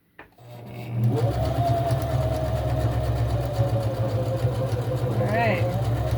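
A sewing machine runs in a continuous, close mechanical whir while stitching fabric, briefly changing pitch near the end as the stitch reverses to back-stitch.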